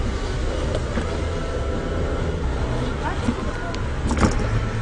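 Steady low road rumble of a car being driven, heard from inside the cabin as a continuous broadband drone with small bumps, no talk over it.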